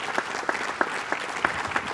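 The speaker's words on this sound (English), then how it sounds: "Can we all give them a round of applause?" Audience applause for students at an MLK Day event, a moderate crowd clapping steadily with a few distinct sharp claps standing out over a brief span.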